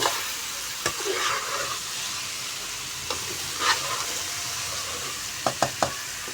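Aloo gobi potatoes and cauliflower stirred in masala in a pan, a steady sizzle of frying under repeated soft scraping strokes of a spoon, with a quick cluster of clicks near the end.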